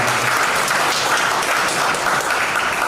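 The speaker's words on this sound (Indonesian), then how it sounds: "Dari tepuk tangannya agak delay sebentar" Sustained applause from a crowd at a large Islamic religious gathering, a steady dense clapping that holds evenly from start to finish.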